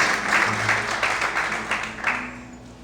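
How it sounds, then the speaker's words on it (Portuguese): A church congregation applauds in a broad, steady wash of clapping, moderately loud and continuous, with faint low voices murmuring underneath. "Quantos podem aplaudir ao Senhor nesta noite? Bem fortes palmas."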